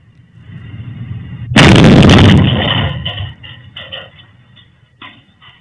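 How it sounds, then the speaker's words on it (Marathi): Car explosion caused by gunpowder in an old mill compound in Solapur, recorded on CCTV: one sudden loud blast erupts from quiet, roars and crackles for about a second, then decays into a rumbling tail with scattered later bangs. "कारमध्ये एक स्फोट झाल्याचं चित्र आपल्याला पाहायला मिळतंय"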